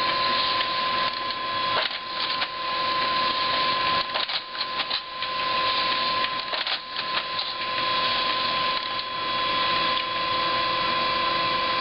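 An office printer runs steadily and loudly on its own, a continuous mechanical whir with brief clicks and rattles near the start and middle as a cat paws at it.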